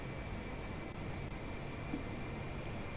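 Steady broadband roar of a Lear 45 business jet climbing out after takeoff, heard from inside the aircraft as a constant engine drone with faint tonal whine, no speech.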